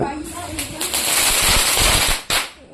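Diwali firecrackers bursting in a rapid, crackling string, loud and close, with a final sharp pop near the end as voices talk in the background.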